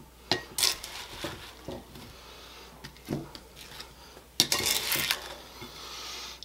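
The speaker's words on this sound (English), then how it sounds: "Now let's go ahead and add our apples to our pie crust." Apples tumble into a pie crust for a Dutch apple pie, giving scattered clinks and soft thuds of fruit and utensils against a dish, with a few louder clattering bursts, close and with no talk.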